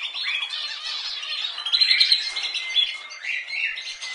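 Several birds chirp and twitter busily nearby, overlapping high calls with a few louder squawks.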